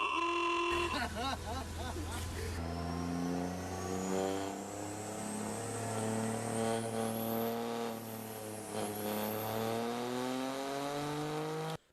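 A diesel truck rolling coal, its engine holding a steady, loud drone with harmonic tones that climb and sag as it revs, with a voice speaking over the start.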